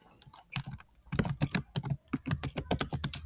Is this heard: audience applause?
no